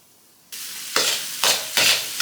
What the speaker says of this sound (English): Nicely fry up your ginger